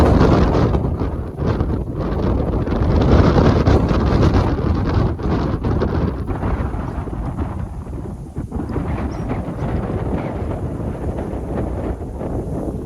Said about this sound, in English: You can probably barely hear me because of the wind.